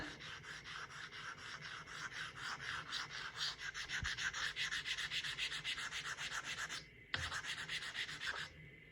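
Copper being sanded flat on 220-grit sandpaper taped to a plywood board, a steady run of rhythmic back-and-forth rasping strokes, close and continuous, with a brief pause near the end.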